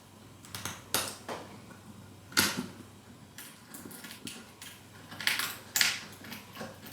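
Small fingernail scissors trim wood veneer along the grain in a run of sharp, close snips and clicks, irregularly spaced against a quiet background.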